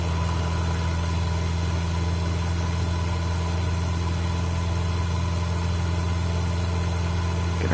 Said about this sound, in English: Let's kick up the engine a little bit.